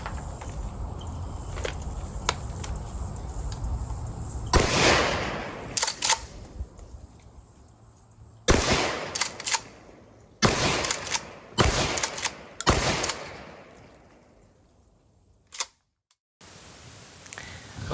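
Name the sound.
Remington 870 Express 20 gauge shotgun firing reduced recoil buckshot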